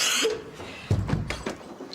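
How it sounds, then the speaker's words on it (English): A single cough sounds up close in a quiet indoor setting, one harsh burst followed by a couple of rougher trailing coughs, alone without talk. "Nasty cough."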